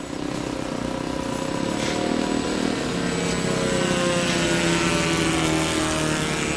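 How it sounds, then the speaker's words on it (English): A radio-controlled model Piper Archer airplane flies in at an RC airfield, its propeller engine droning steadily and growing slightly louder as it approaches, a continuous buzzing whine with no talk. "Piper Archer coming in."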